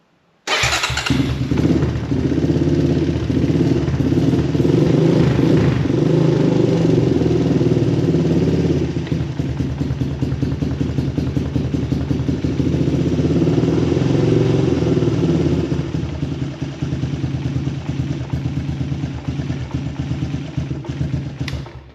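A Honda TRX250X ATV engine runs steadily after a choke start, a loud, close, continuous rumble with a fast clattery pulse that holds for the whole stretch without any talk.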